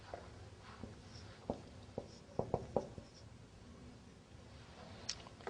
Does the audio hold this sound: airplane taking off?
no